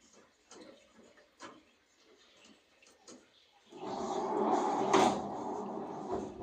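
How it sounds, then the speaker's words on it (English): A barn door is opened, a loud sustained scraping and rumbling rush of sound starting midway and holding to the end, after a few soft knocks and footsteps in an otherwise quiet barn. "Now, she'll stand here while I go open the door."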